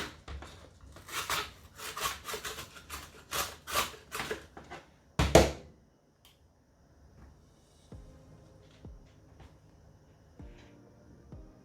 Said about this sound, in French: je vais essayer de le râper aussi, mais avec cette partie-là